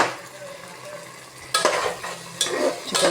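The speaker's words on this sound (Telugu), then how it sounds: "చూసారండి, మన చికెన్ మగ్గుతోంది." Spiced chicken for biryani cooking in a pot, a steady quiet sizzle broken by a few close scraping stirs of a utensil against the metal.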